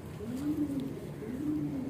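Flying-breed pigeons coo in a steady, low, rolling murmur, the calls close and continuous in two long swells across the whole stretch.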